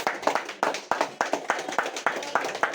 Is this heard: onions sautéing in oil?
no